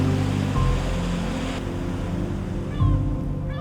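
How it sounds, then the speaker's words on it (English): Surf rolling and crashing against a rugged coastline, a steady close roar of breaking water with a louder surge near the end, with wind buffeting the microphone throughout. "Some days the waves come right into town."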